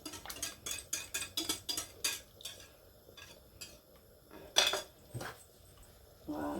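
Milk being stirred in a cooking pot, a quick run of rhythmic clinks and scrapes of a utensil against the pot, then a pause and a few scattered knocks, fairly quiet and close.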